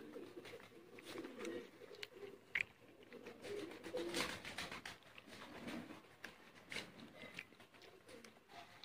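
Pigeon cooing, soft and fairly faint, among other bird calls in a loft of fancy pigeons, including a golden-feathered Imamdeen breed, with someone talking over it.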